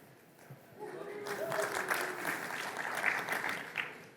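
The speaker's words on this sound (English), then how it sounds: "I was hoping for, more applause" Live audience applause at a Microsoft 365 Copilot tech conference session, rising from a quiet start into a moderate, steady patter of clapping that holds to the end, slightly distant with a faint tonal hum underneath.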